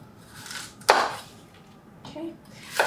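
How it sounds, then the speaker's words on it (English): A knife cuts through small apples on a board, giving a few sharp crisp chops separated by pauses, close and moderately loud, with a little soft talk in between. "we're just gonna slice our apples in half"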